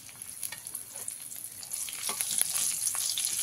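Green chillies and black cumin (kalo jeere) sizzling in leftover fish-frying oil, a steady crackling fry with spits and pops that grows slightly louder toward the end, with no talk.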